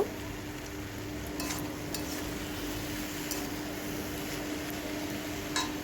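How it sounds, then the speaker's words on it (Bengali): Malabar spinach stems with spices and salt are stirred in a pan over a low, steady sizzle, with a few soft scraping and clinking strokes of the utensil and no talking. "লাস্টে লবণটা দেবো দিয়ে ভালো করে সবজিটাকে নেড়ে নেব"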